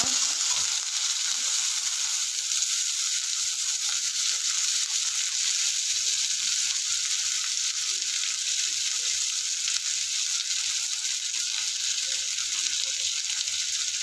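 Chopped onion and green chilli frying in hot oil for a cabbage and mixed vegetable sabzi, a steady bright sizzle holding evenly throughout, close and fairly loud with no voices.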